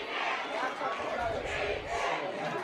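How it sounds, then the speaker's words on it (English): A high-school football crowd at a Parkway versus Captain Shreve game chants "defense" in a dense, steady roar, with speech heard over it. "They are allowed the Parkway chants, the crowd saying defense."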